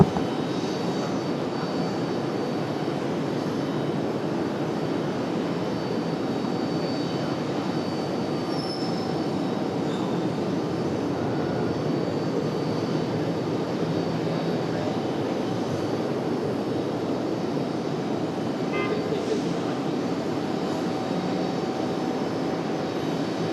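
Boeing 757-200 airliner at RDU airport, a steady, loud roar of jet engines that holds evenly throughout with no talk.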